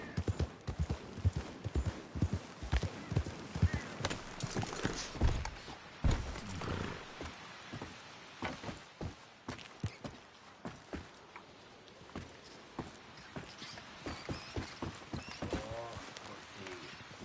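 A horse ridden in a PS4 video game clip-clops in a steady trotting rhythm, close and fairly clear, with a voice speaking over the first few seconds and quieter hoofbeats continuing afterward.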